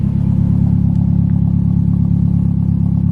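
A forged Toyota 4EFTE engine built from second-hand parts runs steadily at a constant, loud drone with a dense low rumble and faint mechanical clatter throughout, no voices.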